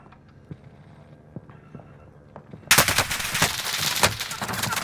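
Gunfire in Call of Duty: Modern Warfare: scattered single shots at first, then a sudden loud burst of rapid automatic fire that keeps rattling on, close and intense.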